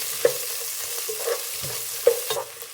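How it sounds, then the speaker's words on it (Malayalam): Onions sizzle softly in a pan, with a few sharp clinks and scrapes of a stirring spoon against the metal. "ഇനി നമുക്ക് എടുത്ത് വെച്ചിരിക്കുന്ന സവാള ചേർത്ത് കൊടുക്കാം"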